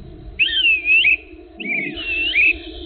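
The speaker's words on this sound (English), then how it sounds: "he's been blowing this whistle at us" Someone outdoors at night blows a whistle in two long, wavering shrill blasts, loud and close, with a steady low hum underneath.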